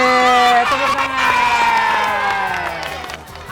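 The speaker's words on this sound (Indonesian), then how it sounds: "Nih, tepuk tangan." A group of children cheer and shout together at a gathering at the foot of Mount Lawu, a loud, bright chorus of voices that holds steady, then tapers off over a few seconds.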